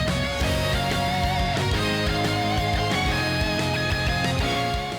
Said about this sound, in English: in Xenoblade Chronicles 3, the unique enemy theme normally sounds like this,